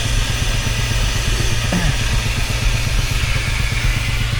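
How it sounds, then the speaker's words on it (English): An Advance steamroller's compound steam engine runs close by with a loud, steady, rhythmic low chuffing beat and constant hiss at an outdoor tractor festival. "There's an Advanced steamroller here. Looks like another compound engine."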